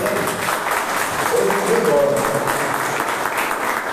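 A congregation at a church service applauds in a loud, continuous wash of clapping, with voices and a faint tone blended in as it carries on evenly.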